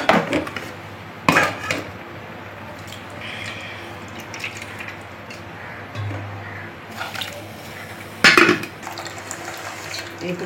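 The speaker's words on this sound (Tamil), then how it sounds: "இப்போ புளியை வந்து அப்படி சிக்குன்னு கரைக்கிறாங்க." Tamarind is squeezed and dissolved by hand in water for urundai kuzhambu, a soft, continuous wet squelching and sloshing broken by a few louder splashes.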